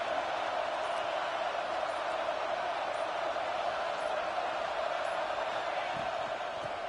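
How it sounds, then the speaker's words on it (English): A stadium crowd at a college football game in an NCAA football video game keeps up a steady, dense roar with no breaks. "It's early, but this crowd is fired up. Listen to this noise here."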